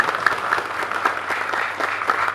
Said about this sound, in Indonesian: Tepuk tangan untuk kedua brigade yang ada di pinggir saya.